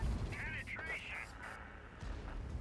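Artillery fire in a tank battle video game lands as dull, heavy thumps at the start and again near the end, under a busy mix of game effects and a faint voice.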